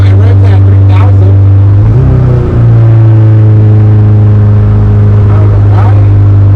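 A Honda CRX with an H2B engine swap idles loud and close, a deep steady drone with a brief revving dip and recovery partway through.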